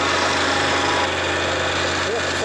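A compactor engine drones steadily and loudly, close by, while compacting stone chippings for a self-draining parking area.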